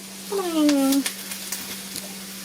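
Duck breast sizzles steadily in a hot pan after being flipped, a close, continuous frying hiss with a steady hum beneath and a brief tonal squeal near the start.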